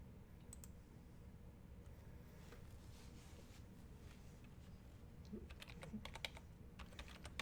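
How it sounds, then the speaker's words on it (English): Someone types a password on a computer keyboard in a quiet room. The keystrokes are faint and sparse at first, then a closer flurry of clicks comes toward the end. "So I'm just putting in password"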